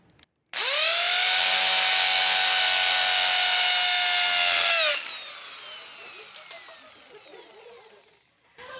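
A power drill bores into a wall during DIY drilling and puttying work, starting abruptly with a loud, steady high whine for about four seconds, then dropping to a lower grinding tone as it winds down, close by with no talk.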